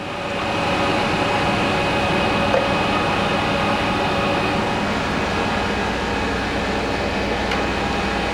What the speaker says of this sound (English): And I'm going to start the grinding wheel up for you.